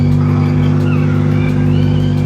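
Car drifting on a track during a drift lesson: a loud, close engine drone with strong steady low harmonics and a faint rising whine over about two seconds, no talking.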